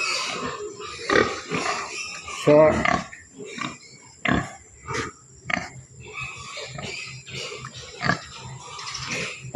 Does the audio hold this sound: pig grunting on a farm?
yes